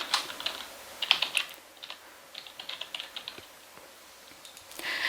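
Fingers type on a computer keyboard, entering text into a form, giving close, quiet bursts of rapid key clicks separated by short pauses.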